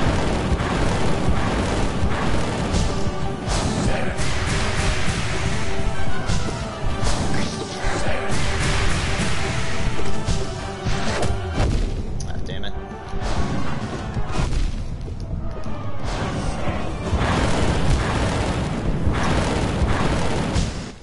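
Fire attacks from Nightmare King Grimm in the video game Hollow Knight, dense booming blasts and crashing bursts running continuously under loud music and game effects, with a voice talking over parts of it.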